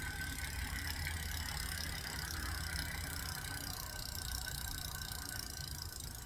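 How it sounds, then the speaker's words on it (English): Freehub body of a bare bicycle rear wheel with a disc rotor and cassette hub, ratcheting in a fast, continuous stream of fine clicks under a steady mechanical hum, fairly quiet and close. "Let's listen to that free hub body."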